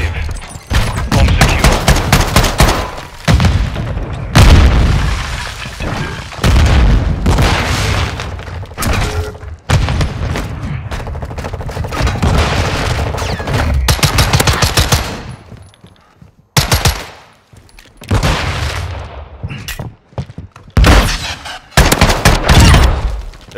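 Rapid volleys of shotgun blasts from a KV Broadside in a first-person shooter search-and-destroy match, loud and close, firing in dense bursts with brief pauses and no talk.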